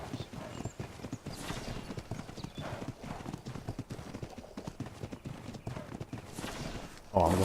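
Hooves of a horse in the survival game Ark clip-clop in a steady, fairly close rhythm, with a brief whinny near the end and a voice speaking over part of it.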